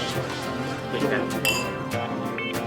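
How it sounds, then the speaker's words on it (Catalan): Glasses clink together in a celebratory toast, several bright clinks over lively talk from people close by. "et sembla fer un brindis?"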